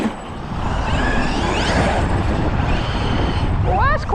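Traxxas Super XRT RC truck with a Hobbywing Max5 system driving around a track, heard as a loud continuous motor roar and broadband rumble with rising whine near the end.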